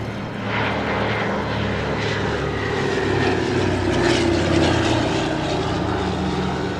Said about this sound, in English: Twin Beech, built in Wichita, Kansas, has become one of the greatest light haul airplanes